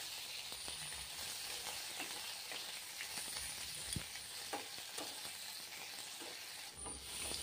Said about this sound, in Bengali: তো চিংড়িগুলি দিয়ে দিলাম, কড়াই হিট হয়ে গিয়েছে, তো একটু ফ্রাই করে নেব।